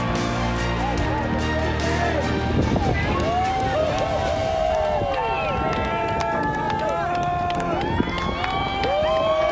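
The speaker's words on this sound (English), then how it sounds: "We cheer on our last paddler standing." A crowd cheers and calls out for the final paddler finishing the Last Paddler Standing race after 50 laps. The cheering is close and steady, with shouts and whoops rising over one another throughout.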